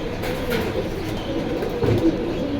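Pigeons offered for sale at Jinjira bazaar coo in low bursts amid a loud, busy market background of steady noise.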